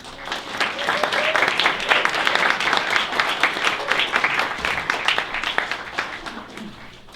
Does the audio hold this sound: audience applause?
yes